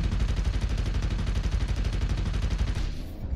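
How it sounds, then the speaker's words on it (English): Artillery strike in MechWarrior Online: a dense, continuous barrage of rapid heavy explosions and booms rolling together loudly for about three seconds before cutting off. "Artillery strike activated."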